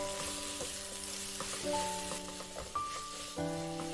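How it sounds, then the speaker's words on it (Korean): Garlic scapes, onion and fish cake being stir-fried in an oiled pan, giving a steady, close sizzle with occasional soft scraping stirs layered over a constant tonal background hum. "마늘종을 넣고 1분 볶고 양파와 어묵을 넣고 더 볶아줍니다"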